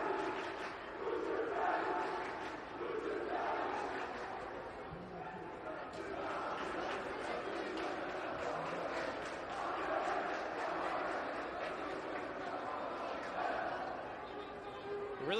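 High school student section chanting at a basketball game against Fairfield Prep, rhythmic crowd voices rising and falling in a gym, moderately distant, with talk over it.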